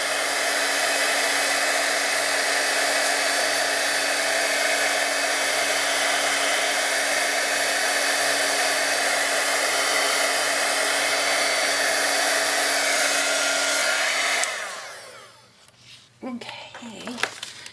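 Heat gun blowing hot air onto embossing powder on a card, a loud, steady whooshing roar with a fixed hum that holds for about fourteen seconds, then cuts off abruptly, leaving a few small handling noises.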